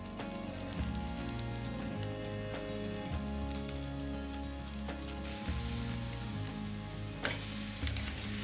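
Steaks sizzle and spit over a live fire on a Weber kettle grill, a steady hiss with sharp pops, heard under loud background music.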